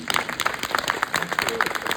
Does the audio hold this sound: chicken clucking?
no